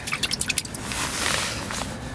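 Squelching squish of a water-soaked car seat being pressed, with a few wet drip-like pops at the start followed by a longer soggy hiss of water being squeezed out, close and fairly quiet.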